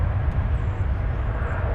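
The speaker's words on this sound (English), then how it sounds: "The arrival there was flight 2721 from Tucson," Airbus A321 arriving at DFW Airport, a loud, broad, steady engine roar, close and continuous across the whole brief moment.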